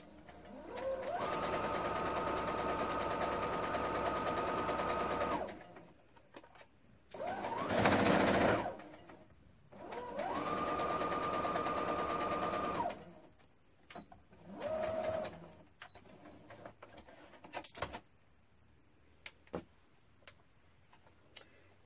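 A sewing machine back stitches a seam on an off-the-shoulder top, running in two long steady whirring bursts separated by shorter runs and pauses with scattered clicks from the machine and fabric handling, and no talking.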